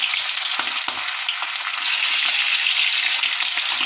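Marinated chicken 65 pieces fry in hot oil, a loud, dense, continuous crackling sizzle with a few soft knocks near the start and no one talking.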